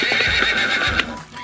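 A horse neighing as a story sound effect: a loud, close, drawn-out whinny with a hint of hoof clip-clop beneath it, heard alone.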